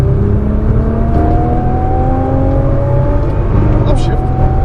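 Nissan GT-R race car accelerating on a Las Vegas track, engine whine climbing steadily in pitch through the gear, loud and close from inside the cabin, with a voice talking over it.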